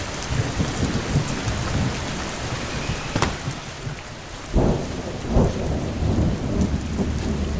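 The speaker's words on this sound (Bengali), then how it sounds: "বৃষ্টি যেন অতিমাত্রায় বেড়ে গেল" Heavy rain pours steadily in an animated horror cartoon while thunder cracks and rumbles a few times, one sharp crack followed by deeper booms.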